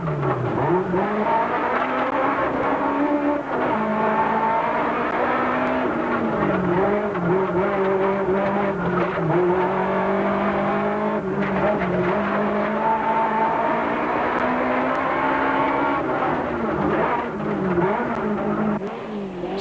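A Volkswagen rally car at the 1992 Algoa Rally, heard from inside the car on a muddy forest stage, its engine droning loud and continuous and rising and falling through shifts and bends, with faint tyre noise.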